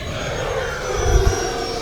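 An E-Flite Viper 90mm RC jet plane flies overhead, its ducted-fan whine a steady rushing roar at moderate distance, swelling slightly as it passes, with no talk.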